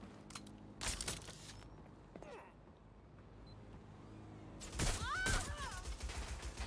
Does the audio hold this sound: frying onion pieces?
no